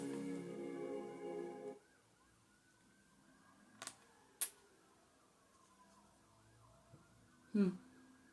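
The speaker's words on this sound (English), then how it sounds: "I'm hearing sirens outside right now." A faint, distant siren wails and wavers in the background, with a few brief clicks and knocks nearby.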